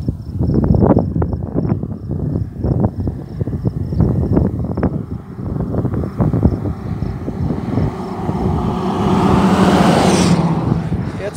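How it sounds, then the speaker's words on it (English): A work truck passes along a rural Kansas road, its low engine and tire rumble rising and falling close by, with wind buffeting and a faint steady beeping in the background. "Yeah, it's a work truck there."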